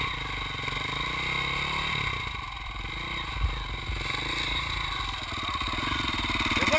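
A motorcycle engine with a stuck throttle holds a steady, droning roar at constant speed with a faint metallic clatter underneath, close and continuous throughout.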